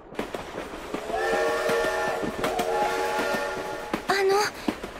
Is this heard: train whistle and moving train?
yes